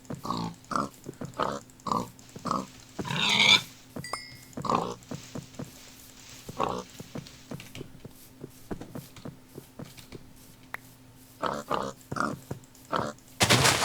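Pig grunts and oinks from the Minecraft video game, repeated short bursts scattered across the stretch, with game clicks, footsteps and a few sharper sound effects between them, no talking.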